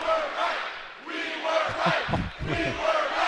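A college basketball crowd chants in unison at an opposing free throw shooter during an NCAA game between Charlotte and Utah State, rhythmic shouted syllables from a large arena crowd beneath a play-by-play announcer's voice.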